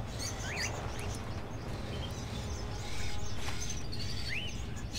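Caged birds in Fahrenheit: Indigo Prophecy give several short chirps and rising tweets, faint and scattered over a steady low room rumble, no speech.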